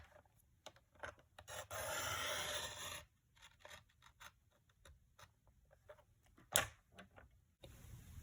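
Paper trimmer blade slicing through cardstock in a craft setup: a sustained rasping cut of about a second, with softer sliding and clicking handling sounds before and after, close and fairly quiet.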